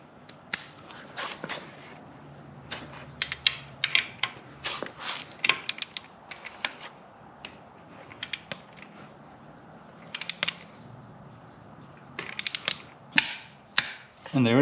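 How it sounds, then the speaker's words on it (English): A torque wrench tightening the oil filter on a Yamaha VMAX 1700 motorcycle, heard as a series of close ratcheting clicks and metallic ticks in irregular bursts with brief pauses between them. "I'll go ahead and grab the torque wrench."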